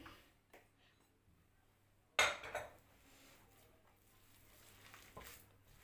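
Utensil scraping and clinking against a bowl while hawawshi filling is stirred by hand, a sharp burst of contact noise midway followed by quieter intermittent scraping, close and fairly faint with no talk.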